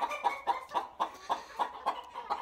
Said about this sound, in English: ceramas are some of the smallest chickens in the world